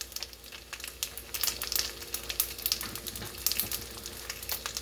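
Hot broth for Korean-style chicken dumplings simmers in a pot, giving faint, continuous bubbling with small crackles and pops close by.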